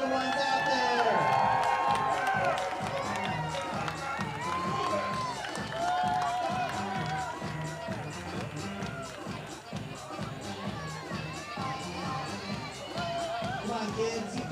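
A baseball crowd at a Kingsmen versus Goldpanners game cheers and shouts continuously for young children on the field, with a dense wash of voices and a few higher whoops standing out.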